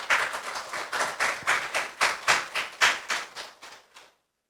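An audience claps for a guest coming forward to give a special lecture, in a steady rhythmic beat of a few hands in unison that builds, then fades and stops abruptly after about four seconds.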